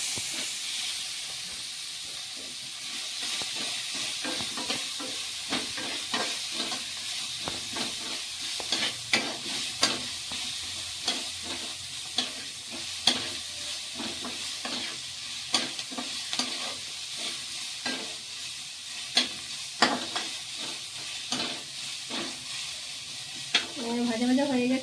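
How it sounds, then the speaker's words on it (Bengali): Chopped onions fry in a pan with steady sizzling and hiss, broken by frequent stirring scrapes and clinks throughout, close and fairly loud, with no talking. "পেঁয়াজটা একটু ভাজা ভাজা করতে হবে।"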